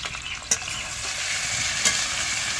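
Green chili and radhuni paste sizzle and fry steadily in a hot pan, with two sharp scraping stir strokes cutting through the continuous crackle.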